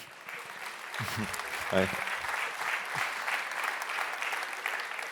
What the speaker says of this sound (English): please come on stage, and a big applause for Ryan